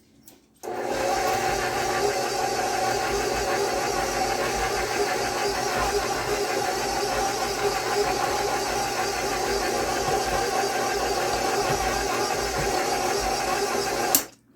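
An old stand mixer running on low speed through very thick triple fudge cookie dough, a steady close mechanical whir with a faint rattle that starts abruptly, holds evenly for about fourteen seconds, then cuts off.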